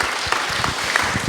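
A church congregation claps to welcome a visitor, a short burst of lively, irregular applause with distinct individual claps close by and no talking.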